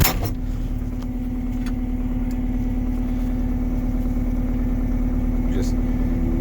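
A Trackless MT7 tractor engine idling steadily close by with a constant low hum, while a person talks over it.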